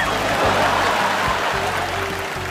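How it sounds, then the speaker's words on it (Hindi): Audience applause for Ekta Kapoor at a comedy show: a steady, loud wash of clapping from a crowd, lasting a few seconds. "एक बार जोरदार तालियां होनी चाहिए हमारी एक थी कपूर के लिए"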